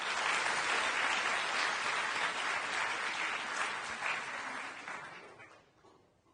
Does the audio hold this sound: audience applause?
yes